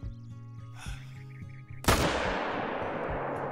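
A single loud rifle shot in the hunting video game theHunter: Call of the Wild cracks out near the middle, then rolls into a long fading echo over low game ambience.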